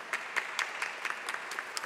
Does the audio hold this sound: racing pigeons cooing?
no